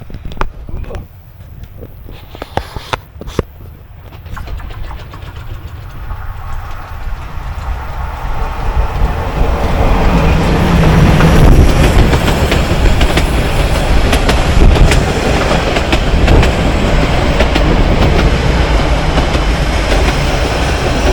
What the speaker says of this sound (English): right now I guess there's going to be a train coming in